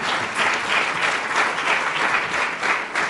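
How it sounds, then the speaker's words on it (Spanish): An audience applauds a poem by Boaventura de Sousa Santos at a poetry reading, with steady, sustained clapping from a crowd that continues at an even level throughout, close and fairly loud. "¿Pueden aplaudir el poema de Boaventura?"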